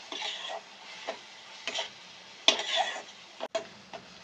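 Masala with chilli powder, salt and turmeric being stirred and fried in a pan for a fish egg curry: quiet, scattered spatula scrapes and taps over a faint sizzle, with a sharper clack near the middle.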